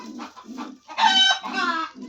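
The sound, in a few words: chickens clucking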